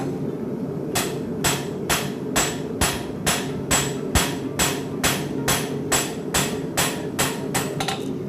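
A farrier hammers a horseshoe on an anvil at a shoeing clinic, shaping the toe: about seventeen sharp, ringing metallic blows in a steady rhythm, evenly spaced and close, over a low background hum with no speech.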